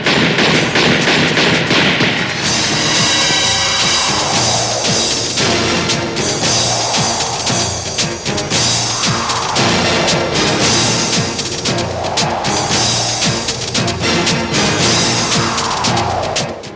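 Gunfire sound effects from the 2002 Pakistani action film Dada Badmash: repeated loud bangs and heavy thuds land in a steady rhythm, layered into a dense, loud film soundtrack with no talking.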